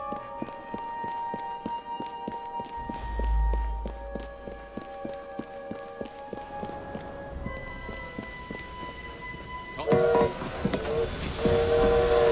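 A steam train in the video game Assassin's Creed Syndicate runs along rails with rhythmic clicking and chuffing and a brief low rumble, then a loud, sustained whistle blows near the end.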